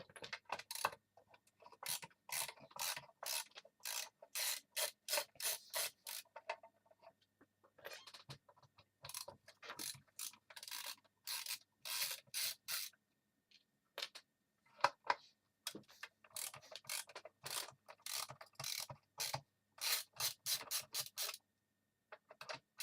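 Ratcheting clicks of a screwdriver removing screws from a Taramps MD8000 car amplifier, repeated bursts of close, crisp ticking with short pauses between screws, no talking.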